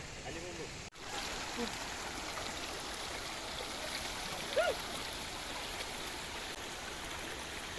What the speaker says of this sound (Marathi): सुंदर असा हा वॉटरफॉल तर आलोय आता इकडे